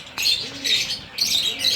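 A pet parrot in a cage gives shrill, harsh squawks in two close bursts, loud and near, with no talking.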